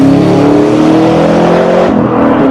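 A 580 hp 2012 Chevrolet Camaro ZL1 revs hard on the track at Virginia International Raceway, loud and close, its engine note climbing before a sudden drop as the throttle lifts near the end.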